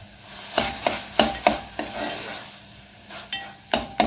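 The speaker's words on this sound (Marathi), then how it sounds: "थोडासा खमंग वास येईपर्यंत आपण परतणार आहोत गाजर" Grated carrots for carrot halwa are sautéed in a pan, with a spatula scraping and stirring in uneven strokes over a low sizzle, heard close and without any talk.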